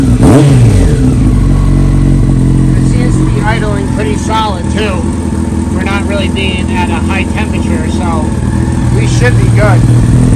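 A Yamaha R1 sport motorcycle under restoration idles steadily, its engine a loud, close, continuous rumble with a slightly uneven pulse, while someone talks over it.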